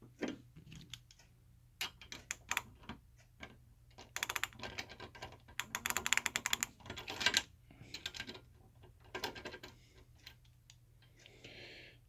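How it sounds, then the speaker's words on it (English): A standard ratchet wrench turns a bolt held in a vise grip, giving bursts of rapid, close clicking that start and stop in short runs over a quiet background. "the standard ratchet wrench. This I find to be the easiest way to take bolts off and put bolts on"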